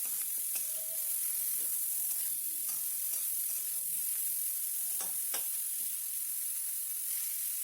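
Beetroot pieces sizzle steadily in a hot pan, with intermittent scraping clicks of a spoon stirring them through; a close, continuous frying hiss with no talking.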